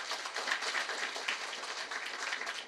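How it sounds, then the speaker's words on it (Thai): Steady audience applause honours motorcycle riders at an award gathering: a dense, even patter of many hands clapping at once, soft and somewhat distant, with no voices over it. "ขอเสียงปรบมือให้กับคนใช้มอเตอร์ไซค์อีกครั้งนึงครับ"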